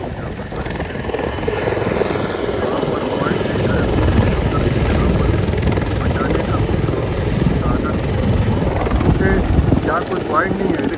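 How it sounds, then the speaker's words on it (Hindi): An Indian Army helicopter landing during a river rescue on the Girna near Malegaon on a windy day gives a loud, constant rotor roar with chopping texture, while someone talks excitedly over it. "वो हेलीकॉप्टर अभी वहाँ पर उतर रहे हैं और लैंड कर चुका है हेलीकॉप्टर"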